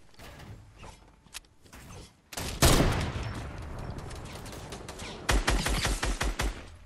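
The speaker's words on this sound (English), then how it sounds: "Holy shit, I'm getting shot at" Gunfire in the Fortnite video game: a sudden heavy blast, then scattered shots and a close, loud volley of rapid machine-gun-like bursts near the end, over a steady noisy background.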